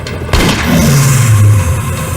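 A launcher explosion in a comic fight scene bursts out suddenly and loudly, then rolls on as a sustained, heavy rumbling roar that holds steady until the end.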